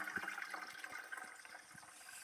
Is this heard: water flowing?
yes